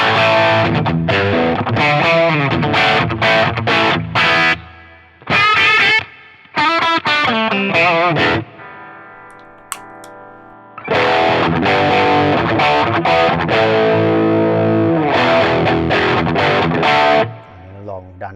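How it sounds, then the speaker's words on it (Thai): An electric guitar plays through a RYRA The Klone overdrive pedal, crunchy overdriven chords and riffs in bursts separated by short silences. "เราจะมาลองบูสต์กับเสียงแตกกันดูบ้างครับ"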